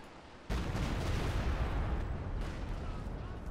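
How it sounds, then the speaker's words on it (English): Anti-tank guns open fire in a Company of Heroes 2 battle: a sharp loud blast at the start, then a sustained dense rumble of gunfire and explosions with a fainter crack later. "extended range AT guns opening fire"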